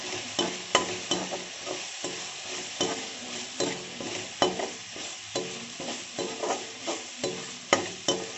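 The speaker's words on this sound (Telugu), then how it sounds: "బాగా వేయించుకోవాలి" Fresh crushed ginger garlic paste fries in a pan, a steady close sizzle broken by regular scraping strokes of a spoon stirring it, with no voices.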